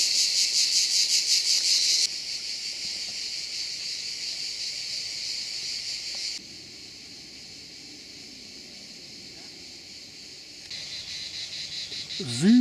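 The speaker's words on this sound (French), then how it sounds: "Pinèdes et concerts de cigales." Cicadas chirp in a sunny pine forest on the Giens peninsula, a dense, loud, continuous buzzing chorus that shifts in intensity in steps, with no voices.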